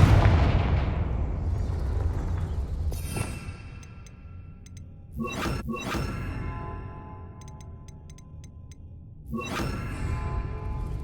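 Confringo fire-blast spells in Hogwarts Legacy crack and boom as several separate explosive hits over about ten seconds, each leaving a ringing, whooshing tail that fades into quieter game ambience between bursts.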